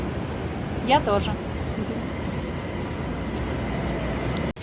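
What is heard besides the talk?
São Paulo metro train riding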